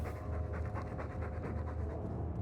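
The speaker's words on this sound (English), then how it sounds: "All that noisy dog breath," A dog pants rapidly and rhythmically in Dragon Age 2, heavy close breaths repeating steadily throughout without any talk.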